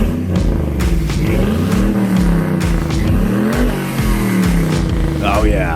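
Listener-submitted recording of a car engine revving, the pitch rising and falling in swells over a steady rumbling idle, fairly loud and close throughout.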